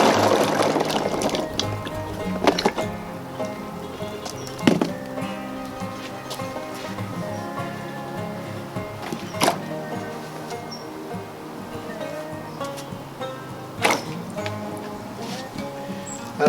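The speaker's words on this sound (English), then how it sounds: "the first thing I do with my acorns, because I've been picking them off the floor and it has been raining, is I just dump them into some water" Rain-collected acorns dumped into rainwater and swished around, close sloshing and rattling with scattered knocks and splashes over several seconds, louder at the start and then settling into intermittent stirring.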